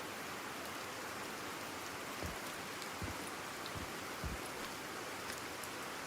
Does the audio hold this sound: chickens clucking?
no